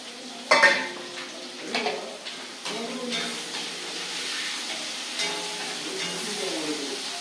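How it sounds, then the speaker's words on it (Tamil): Onions frying in hot oil on a stove, sizzling steadily while a utensil scrapes and clinks against the pan in a few sharp stirring strokes; the sizzle carries on alone close by. "வெங்காயத்தை போட்டு இந்த எண்ணெய் வதக்கணும்."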